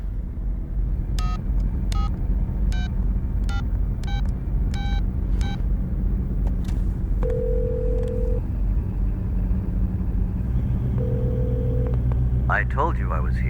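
Telephone keypad tones as a phone number is dialed, a quick run of short electronic beeps followed by two longer steady tones, over a constant low rumble.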